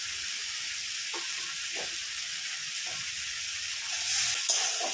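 Spices with yogurt and chicken masala frying in a pan for a pomfret curry, a continuous bright sizzle with occasional soft stirring thumps, close and steady, swelling slightly near the end, no talking.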